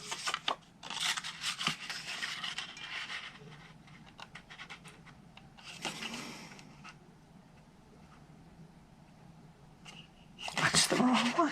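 Scissors cutting craft paper for a small ladybug gift tote, with several close, crisp snipping and rustling bursts separated by quieter handling sounds.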